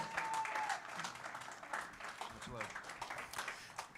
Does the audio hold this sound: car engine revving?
no